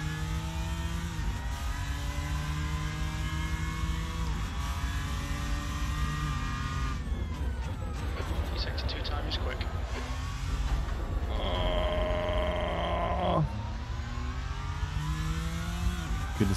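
Race car engine in Assetto Corsa revving through the gears, with repeated rising pitch sweeps, sharp drops at each shift, and a brief high squeal partway through, while someone talks over it.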